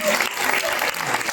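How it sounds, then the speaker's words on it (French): An audience at a hypnosis stage show bursts into steady applause, dense continuous clapping close by for the whole moment. "Et les applaudissements du public."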